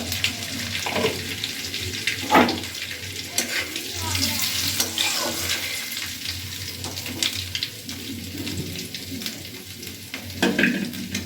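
Whole cumin seeds and two bay leaves sizzle steadily in hot oil in a wok while tempering for a Bengali prawn curry, a close, continuous crackling hiss with brief stirring scrapes.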